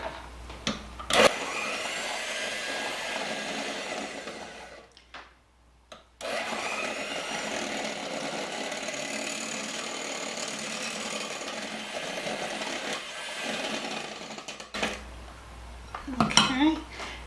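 Homemade brownie batter is stirred in a mixing bowl, a continuous loud scraping and clattering of utensil against the bowl that carries on for most of the stretch, with a short pause partway and some handling knocks near the end.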